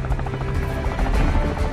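Helicopter in an online shooter game: a steady, loud low rotor thrum with a dense broadband roar running throughout, close and continuous with no voices over it.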